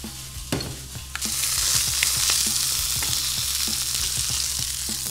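Mullet fish fries in oil in a pan, a bright, loud hiss of sizzling that swells suddenly as more oil goes in, with frequent small pops and crackles throughout.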